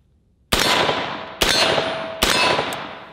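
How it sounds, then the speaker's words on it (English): A .223 rifle fires at close-range steel plate targets: three loud, sharp cracks about a second apart, each followed by a bright metallic ring that fades out, with no talking. "all these steel plates are close range rifle targets, so it's kind of cool being able to shoot steel this close"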